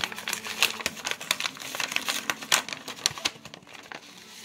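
A trading card pack is being opened: sharp, irregular crinkles and crackles of plastic wrapper, close by and moderately quiet, in quick uneven bursts with no talking.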